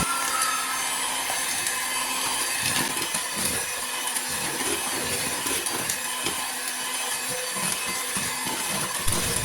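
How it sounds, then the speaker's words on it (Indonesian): An electric mixer running on low speed through nastar pineapple-tart dough with grated cheese makes a continuous steady motor whir with faint knocking from the bowl throughout, no voices. "masukkan keju parutnya ke dalam adonan sambil tetap di mixer dengan kecepatan rendah"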